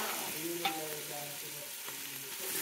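Onion fries in oil with potato, beans, ivy gourd, eggplant, fenugreek leaves, curry leaves and green chilli, giving a soft, faint hiss broken by a few light stirring scrapes and taps.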